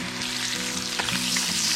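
White bass fish frying in a pan, a dense, close, continuous sizzle and crackle with a faint undertone of pan noise, no voices.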